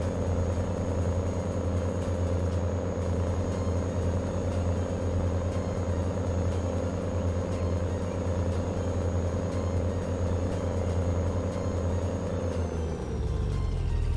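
Tractor on a farm pulling a plough under load: loud, steady droning engine rumble with a constant whine on top, sustained throughout, then the pitch drops near the end as the load changes.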